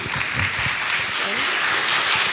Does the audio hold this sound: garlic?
no